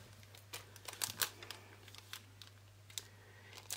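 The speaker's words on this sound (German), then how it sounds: "Den packe ich mir hier jetzt noch in die Tüte rein." Scentsy wax samples are packed into a plastic bag, giving soft, close crinkles and rustles in scattered bursts against a very quiet room.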